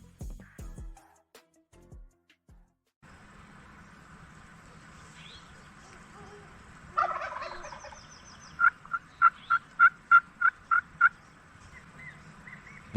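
A run of about eight sharp wild turkey gobbles from a tom roughly 80 to 100 yards away rings out, preceded by a burst of bird calls, over quiet outdoor ambience in a California wildlife area, with faint murmurs early on.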